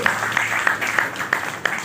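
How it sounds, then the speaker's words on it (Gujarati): A crowd at an educational seminar for Banaskantha district secondary schools claps in a brief burst, with sharp claps landing in a regular rhythm about three times a second, close and fairly loud, with faint voices in the background. "જોરદાર તાળી પાડીશું આપણે"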